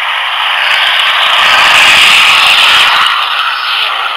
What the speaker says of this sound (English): so then we have airplanes